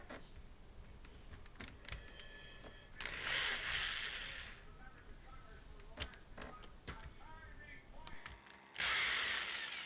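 A power drill backs screws out of a Whirlpool dishwasher mounted under a sink, giving several short, close whirring bursts separated by clicks and handling noise, with the loudest runs near the middle and end.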